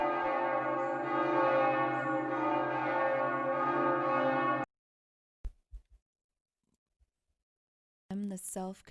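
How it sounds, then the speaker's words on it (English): Dense, sustained tolling of AI-generated church bells rings loudly for several seconds, then stops abruptly, leaving near silence with a few faint knocks before a short burst of speech at the end. "But now it's fucking hell's bells."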